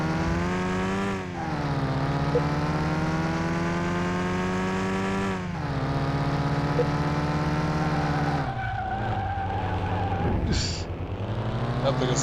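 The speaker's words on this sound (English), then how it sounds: "This car's very loud." A loud car engine in the Car Mechanic Simulator 2021 video game revs and drones steadily at high pitch, with brief dips in pitch and tire squeal near the end, continuous and close throughout.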